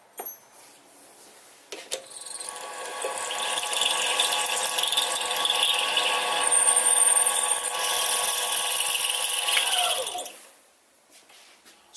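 A 5mm drill bit bores into metal on a mini lathe, giving a steady whirring, grinding drone with high metallic ringing that holds for about eight seconds before the cut stops and the machine winds down.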